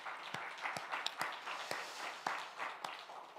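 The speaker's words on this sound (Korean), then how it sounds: "우리 함께 한번 격려의 박수 한번 보내겠습니다" Congregation applause at a Korean church new-year special dawn revival service, a loose patter of scattered hand claps with a few sharp louder claps standing out, fairly quiet and steady throughout.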